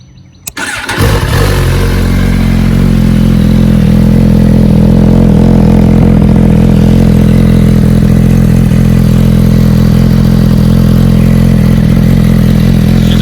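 A newly bought motorcycle engine cranks over and catches, then settles into a steady, loud, close idle with a deep rhythmic throb that holds for several seconds, no voices over it.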